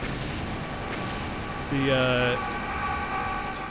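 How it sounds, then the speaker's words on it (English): Many monsters in the video game Doom screech at once, a dense, loud overlapping cry that swells briefly partway through over steady game noise, with a single short spoken word. "Doom engine can do something like 32 sound effects overlapping at once, and all of them were screaming"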